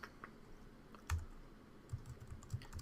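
Quick keystrokes on a computer keyboard while entering a Command Shift O shortcut, a few close clicks in short bursts.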